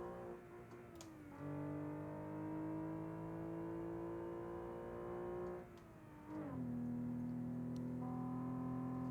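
Simulated car engine in BeamNG.drive on the Nürburgring, droning steadily, then revving higher after a downshift, holding a loud, sustained whine with brief pitch drops at gear changes.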